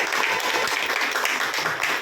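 A crowd claps together at a birthday food-donation gathering: dense, steady applause that stays loud and close for the full two seconds, with no talk over it.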